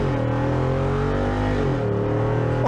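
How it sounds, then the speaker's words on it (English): A Jeep Wrangler Rubicon 392 engine growls loudly and close, revving with a rising then falling drone that holds steady throughout, with no voices. "that engine growl will never let you forget of which vehicle you're in"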